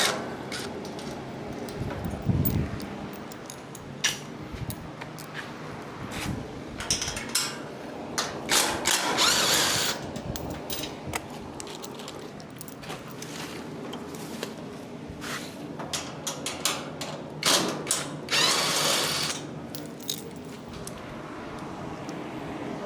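Wrenches clatter and ratchet while a Woodland Mills TF810 wood chipper is taken apart. Irregular metallic clanks and taps come up close, with louder rasping bursts spread over the stretch and no speech.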